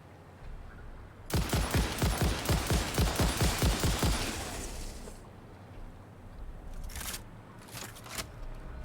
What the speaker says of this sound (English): The rifle sounds a bit too loud?